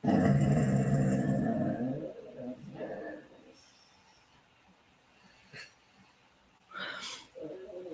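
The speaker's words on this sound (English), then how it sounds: "Now you hear that snoring?" Rough, rumbling snores sound loud and close at first, then turn faint and intermittent, with a few sharp breathy noises later.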